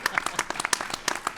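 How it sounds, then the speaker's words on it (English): A small audience claps at a town hall panel discussion on workforce development, distinct individual claps close by in an uneven rhythm, short and fairly loud. "It helps my employment if you all applaud."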